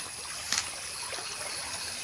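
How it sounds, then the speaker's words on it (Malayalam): A strong stream in flood rushes past in a steady, dense roar of water that holds at an even level throughout, with no talking over it. "നല്ല കുത്തൊഴുക്കാണ് വരുന്നത് കേട്ടോ"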